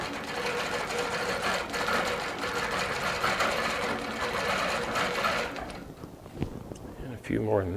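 A Baby Lock Regent sit-down long arm sewing machine quilting runs in fast, steady, close stitching bursts that stop near the end, followed by a brief spoken voice.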